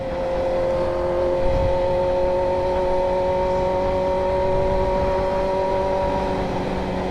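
A motorcycle engine holds a steady, loud, sustained whine and drone with a constant pitch for several seconds after being shifted into first gear, with no voices.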